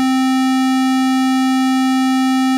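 A Sequential Circuits Prophet 6 synthesizer holds a steady, buzzy pulse-wave tone with poly mod, loud and unchanging, with no other sounds.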